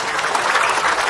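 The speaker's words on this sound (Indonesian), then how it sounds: "tepuk tangan buat Ustadz Kasyif" A television studio audience at an Islamic talk show claps for a preacher, producing a loud, dense and continuous wash of applause throughout.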